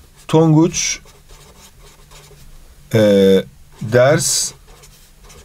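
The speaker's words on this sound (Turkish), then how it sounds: "Şurada bir daha yazıyorum." Someone writing on a board makes short, faint scratchy strokes in the pauses between a teacher's close, clear speech.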